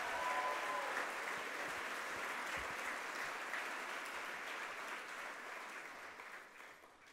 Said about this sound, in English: One last round of applause, please, for Robin Nye Wood.